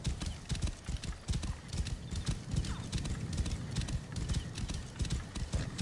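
Horses ridden in Assassin's Creed Origins on PS4 give a brisk, continuous clip-clop of hooves with a few whinnies, close and steady throughout.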